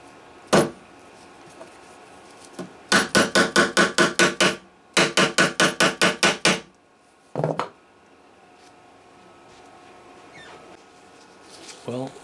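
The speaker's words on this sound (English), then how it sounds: "Now I use the Doug Proper method of hammering in the fret." A hammer taps a fret into a Guild D-55 acoustic guitar neck in a workshop: a single knock, then two quick bursts of about eight and seven sharp, evenly spaced metallic taps, then a lone tap, close and loud.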